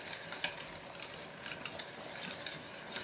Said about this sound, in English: we're going to whisk it until it comes to the consistency of a pudding